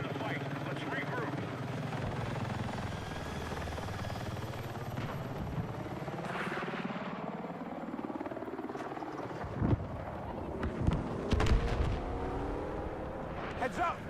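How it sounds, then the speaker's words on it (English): Enemy helicopter in a combat video game, a steady rotor drone with shifting engine tones running throughout, joined later by sharp bursts of gunfire and explosions amid battle noise. "Heads up! Enemy helo!"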